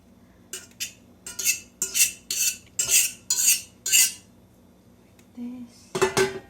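A fork scrapes and clinks against a bowl as cooked pumpkin is mashed, a steady run of about eight close, rhythmic strokes followed by a short pause and a final clatter.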